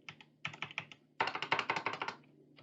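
Typing code on a computer keyboard, two bursts of quick clicking keystrokes, a short run and then a longer, faster flurry, close and fairly quiet with no talk.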